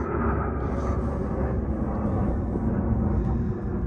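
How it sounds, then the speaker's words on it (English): An airplane passes overhead outdoors by a cactus greenhouse, a steady broad low roar that holds loud and even for the whole stretch with no talking. "excuse the airplane"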